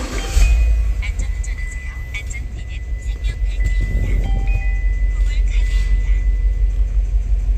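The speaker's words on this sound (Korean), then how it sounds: "자, 이제 시동 걸어 보겠습니다." A Cadillac Escalade with a failing engine cranks and catches, then idles in a workshop with a steady low rumble and a faint whine, loud and close throughout.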